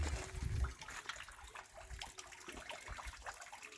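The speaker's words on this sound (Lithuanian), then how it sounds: "Čia toks upelis teka." Small stream flowing in an Italian hillside town, a faint, steady trickle and gurgle of water heard from close by with no talking.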